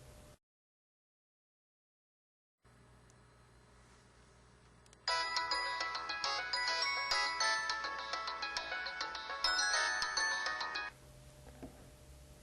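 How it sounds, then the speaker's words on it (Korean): A phone ringtone plays a repeating melodic tune, fairly faint and muffled from inside a closed vacuum container, after a stretch of near silence and a low hum. "용기 안에 전화벨 소리 들으셨죠?"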